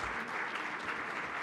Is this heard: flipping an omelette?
no